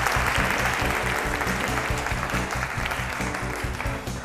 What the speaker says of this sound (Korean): 저를 위해서도 박수 한번 쳐주셔야 감사합니다